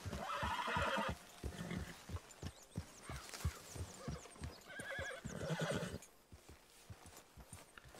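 A horse in the video game Red Dead Redemption 2 whinnies loudly, followed by steady clip-clop hoofbeats and snorts, close by, with a second neigh partway through.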